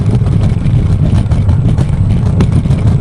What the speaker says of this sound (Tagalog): Ang ingay talaga ng scooter ko guys.